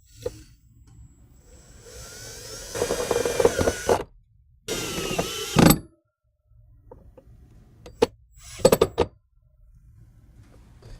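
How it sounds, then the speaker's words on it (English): A power driver sets self-tapping screws into the firewall of a 2010-19 Ford F-150 while a transmission dipstick bracket is mounted, two loud bursts of whirring followed by shorter buzzes and clicks, with quiet gaps between. "with the supplied self-tapping screws, go ahead and bolt this down to your firewall"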